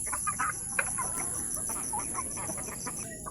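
Backyard chickens, native crossbreeds, clucking in short irregular bursts over a steady farmyard background hum, moderately close and without talk.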